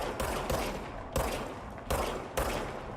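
Four sharp, punchy shotgun blasts from a stubby shotgun in the video game Control, each a broadband burst followed by a short decaying tail, evenly spaced at moderate volume.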